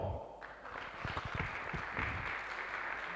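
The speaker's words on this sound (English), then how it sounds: "Please, a round of applause for Egypt." An audience claps for the Egypt team at the Africa Tech Challenge event, a dense and steady round of applause that holds for a few seconds.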